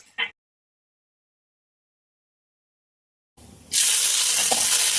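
Thalipeeth flatbread hits a pan with ghee and breaks into a steady, close hiss of sizzling frying that starts abruptly after a few seconds of silence and carries on to the end, no voices.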